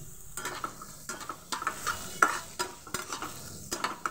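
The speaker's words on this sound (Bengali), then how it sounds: "হালকা হাতে নাড়াচাড়া করে নেবো একটু।" Thinly sliced onions frying in a pan are stirred gently, producing a close crackling sizzle punctuated by repeated rhythmic spatula scrapes against the metal.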